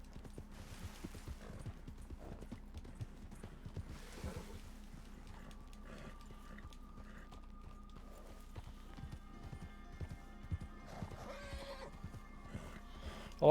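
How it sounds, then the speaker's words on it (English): A horse in Red Dead Redemption 2 gives a few short whinnies and snorts over a steady background of clip-clopping hooves, with faint game ambience and tonal music underneath. "I like when your horse makes a million noises."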